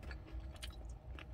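Crispy takeout fried chicken from a Chicken Plus 9,900-won order is bitten and chewed close up, with several short crunchy bites and chewing sounds over a quiet room.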